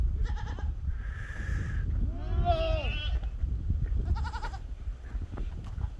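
Goats on a farm in Namibia bleating several times in a row, wavering nasal cries heard fairly close over a low rumble of outdoor background noise.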